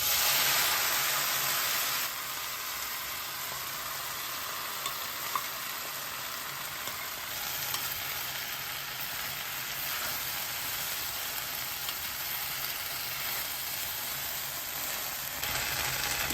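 Steady, continuous sizzling of spices and boiled vegetables frying in hot oil for a white kuruma, a bright hiss that stays loud throughout with no voices.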